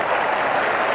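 A tennis gallery at a 1979 Las Vegas exhibition semifinal between Connors and McEnroe applauds a point, a dense, steady wash of clapping filling the whole moment with no voices over it.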